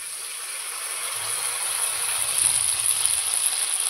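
Ground paste of dried chilli, garlic, ginger and cumin hits a pan of small puti fish, giving a steady, even sizzle and hiss that swells slightly and holds for the whole stretch, with no talking.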